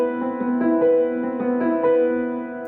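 A sustained piano major seventh chord rings with rich harmonics, its notes shifting slightly as keys are restruck, with no talking.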